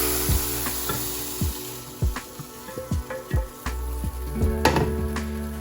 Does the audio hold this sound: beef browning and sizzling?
yes